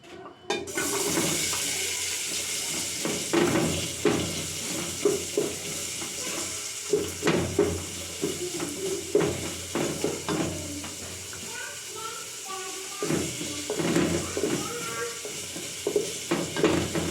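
Onions sauté in hot oil while being stirred, a continuous sizzle broken by repeated scraping and clattering strokes of the spoon, moderately close and with no talking heard.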